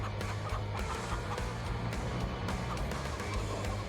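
Chickens cluck softly in a farming video game, several scattered bird calls over a constant low background hum, with no voices.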